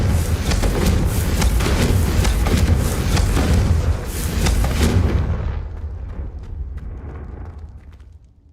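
A Confringo fire spell explodes in a Hogwarts wizarding video game. It is a loud, roaring blast whose rumble rolls on for about five seconds before fading away into quiet.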